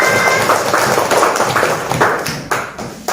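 Classroom children clapping for a classmate after she answers, a dense steady patter of many hands that thins out toward the end.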